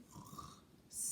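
A voice softly imitates groundhogs snoring in their den, a few faint, low, breathy snore sounds in quick succession, followed by a brief hiss.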